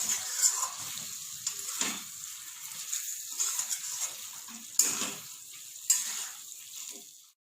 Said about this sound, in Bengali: গরম মশলা ধনেপাতাটা ভালো করে মিশিয়ে নেব